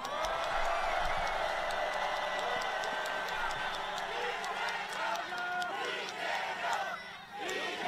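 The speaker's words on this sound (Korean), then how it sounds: "민주당 국회의원들에게 응원의 함성과 박수를 보내주시기 바랍니다" Large rally crowd roaring and cheering with scattered clapping, a dense continuous wall of voices shouting in support of Democratic Party lawmakers, loud throughout with no single voice standing out.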